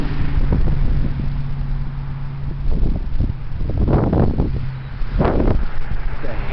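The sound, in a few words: heavy wind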